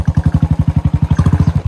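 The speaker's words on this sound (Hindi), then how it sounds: "देख सकते हैं पिछला टायर बाइक का पूरा स्किड कर रहा है।" A Royal Enfield Bullet motorcycle labors through a muddy off-road track toward a dam, its single-cylinder engine thumping in a fast, steady, loud pulse throughout while the rear tyre skids.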